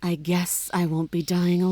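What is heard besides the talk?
No distinct noise like a dog, phone or traffic.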